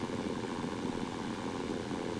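Steady, dense engine drone of an aircraft in the flight game Blue Sky Aces, a continuous loud hum with no breaks, heard alone without voices.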